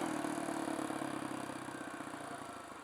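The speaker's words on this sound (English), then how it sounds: "And we gotta let it compression brake." A Kawasaki KLX170 big bore motorcycle engine, rebuilt from a KLX140 and in its break-in run, engine-braking on deceleration. Its loud, throaty mechanical drone slowly winds down and softens over a few seconds, with no talking.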